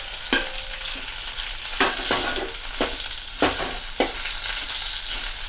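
Onion fries in a hot pan, a continuous sizzle broken by several sharp scraping strokes of a spoon stirring at irregular intervals, close and clear with no talking.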